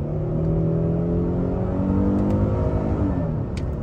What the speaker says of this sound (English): but a second gear pull on the gas.